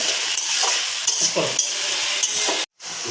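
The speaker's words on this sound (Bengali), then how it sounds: "রসুন দিয়েছিলাম তাই এটা একটু নাড়িয়ে নেব মিনিট দিয়ে ধরে কষাবো" Garlic frying in a pan for mutton curry, sizzling steadily while a utensil scrapes and stirs it in irregular strokes, close and loud, with a short dropout near the end.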